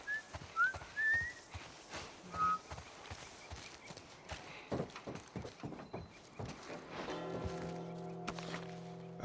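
In The Last of Us Part I, a character whistles a few short, quiet rising notes early on, followed by soft footsteps and clopping hooves at a distance.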